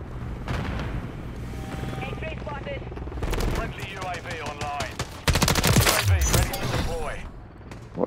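Automatic gunfire and explosions in a Call of Duty: Modern Warfare 3 Kill Confirmed multiplayer match, loud rapid bursts and booms through the clip, with radio-style game voices mixed in.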